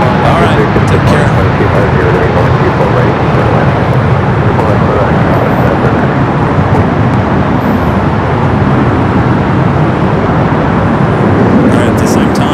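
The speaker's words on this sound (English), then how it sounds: "we do have a United flight rolling down, heading to London Heathrow" A United jet rolling down the runway at LAX on takeoff toward London Heathrow gives off a steady, broad roar, loud and constant for the whole stretch, with faint voices underneath.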